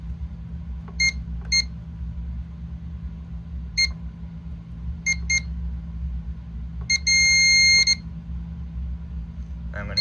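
Short electronic fire alarm tones from Wheelock horn-strobes chirp in scattered bursts during a system test, one longer sounding near the end, over a steady low hum with occasional quiet voices.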